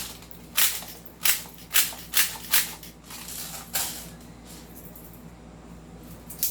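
Sharp snapping shots from a JWC PitViper airsoft pistol, about six quick cracks in an even rhythm, then softer mechanical clicks of the slide locking open once it runs empty.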